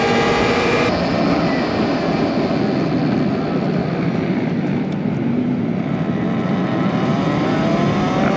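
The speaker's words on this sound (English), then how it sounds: "The dirt bike gang out in full effect." Dirt bikes ride past on a mountain route to the highest peak in the Bay Area, a steady loud engine roar and wind rush filling the whole stretch with no clear gaps between machines.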